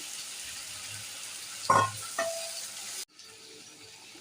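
Shrimp and green chilies fry with mixed vegetables, a soft continuous sizzle punctuated by two louder bursts of stirring or splashing before the sound suddenly drops to a quieter hiss.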